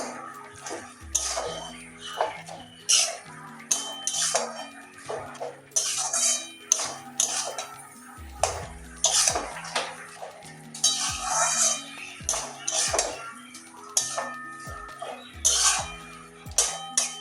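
Bottle gourd curry with fish roe and coriander leaves being stirred in a pot, a spoon scraping and clattering against the metal in a steady series of close, fairly loud strokes with no talk.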